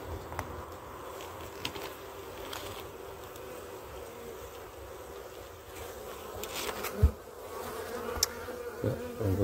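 Honeybees hum steadily around an open hive at a breeding and selection apiary during a spring inspection, a dense close buzz with occasional light clicks and taps as frames are handled.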